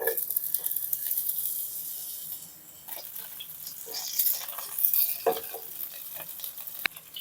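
Onion sizzles as it is added to a hot pan for chicken caldereta, with bursts of scraping and stirring over a continuous frying hiss, close and moderately loud.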